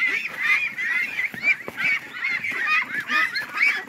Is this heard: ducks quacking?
yes